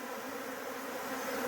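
Bees buzzing as they gather around nectar, a continuous close droning hum with a steady, unbroken tone throughout.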